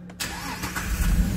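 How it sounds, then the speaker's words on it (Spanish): A Jeep Liberty engine cranks briefly and catches, settling into a close, rough running rumble after a short starter burst. "Vamos a darle marcha."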